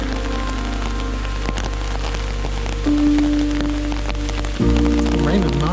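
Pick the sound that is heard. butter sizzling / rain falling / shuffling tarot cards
rain falling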